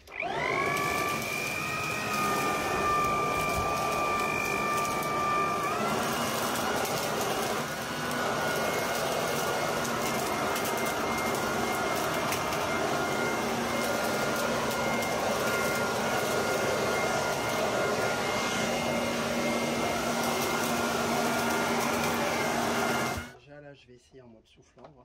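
Parkside 2600W garden vacuum blower shredder running in suction mode, a loud steady motor whine and airflow roar lasting over twenty seconds before switching off, with a voice talking over it.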